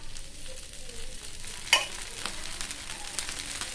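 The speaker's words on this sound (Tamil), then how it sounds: "தோசையை ஊற்றிக்கலாங்க. கொஞ்சமாக ஆயில் விட்டுக்கலாங்க." Wheat rava dosa batter frying in a little oil on a pan, a soft steady sizzle throughout, with one sharp brief crackle partway through and faint scraping.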